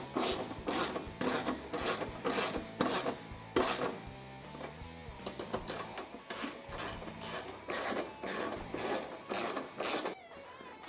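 Repeated rasping, ratcheting strokes come in quick bursts as a wrench tightens hardware on an aluminum lower door of a Polaris RZR XP Turbo, loud and close with brief pauses between.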